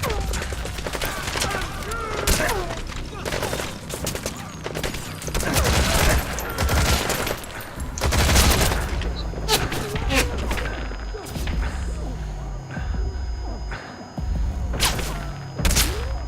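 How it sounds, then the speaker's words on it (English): Rapid gunfire bursts and thuds ring out during a mission in Metal Gear Solid 5, loud and dense, with a voice speaking over the shooting. "Who's shooting?"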